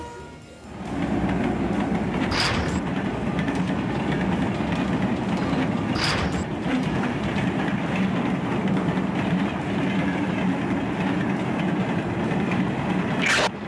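A passenger train travels on rails en route to Varanasi, a steady loud rumble with rhythmic clickety-clack of wheels over joints and a few sharp metallic clanks, running continuously throughout.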